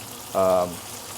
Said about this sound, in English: Look at all these bubbles and sizzling.